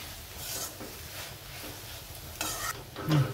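A spoon stirs wild monsoon greens frying in a pan, with a steady soft sizzle under repeated scraping strokes that grow louder toward the end.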